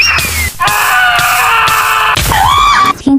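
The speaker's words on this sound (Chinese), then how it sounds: "听到惨叫了" A scream in a Minecraft game, a loud wavering high-pitched cry lasting a few seconds with breaks and pitch swoops, set against game sounds.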